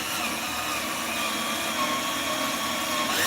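A power drill bores a hole into a handmade flute body, giving a steady, loud, continuous whirring grind that holds for about three seconds without a break.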